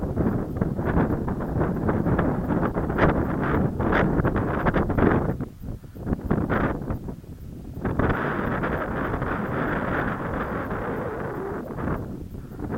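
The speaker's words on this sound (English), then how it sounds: "Strong wind." Strong wind buffets the microphone outdoors at a model glider flying field, giving a loud, continuous low rumble with gusty surges and a brief lull midway.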